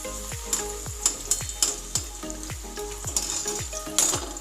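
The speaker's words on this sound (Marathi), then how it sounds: "आता आपण ह्या तेलामध्ये थोडेसे बेदाणे जे आहे ते तळून घ्यायचे." Raisins frying in hot oil for pohe chivda, a steady sizzle broken by regular scraping stirs of the spatula against the pan, close and fairly quiet, with no speech.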